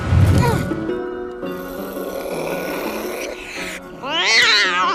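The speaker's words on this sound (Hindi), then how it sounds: "सब लोग उस बिल्ली को ढूंढो। कहाँ गई वो बिल्ली?" Cartoon-style cat meowing and yowling loudly, drawn-out tonal cries with a strained, wavering meow at the end, layered over music and effects in an animated scene.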